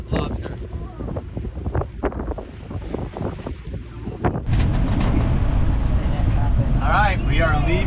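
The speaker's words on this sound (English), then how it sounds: "It's a windy day, which is good for the sails unless the seas are mad." Strong wind buffets a sailboat heading out to sea from St. Kitts in the Caribbean, a loud steady roar after a stretch of voices talking over gusty background noise.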